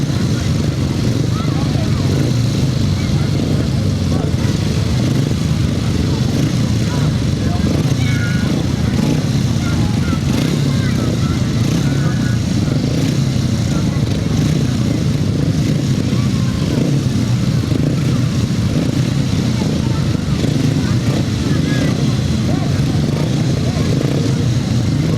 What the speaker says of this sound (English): So we now turn our attention back to the 500 sidecars, This their second leg ride of the afternoon.